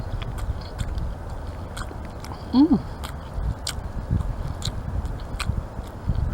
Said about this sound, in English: I'm just going to eat it like this.